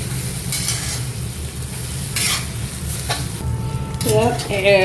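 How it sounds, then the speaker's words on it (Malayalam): Masala for an eggplant curry is sautéed and stirred in a pan, a close, steady sizzle with bursts of scraping, and faint voices and a tone late on. "ഇത് നല്ലതായിട്ട് വഴറ്റി എടുക്കുക."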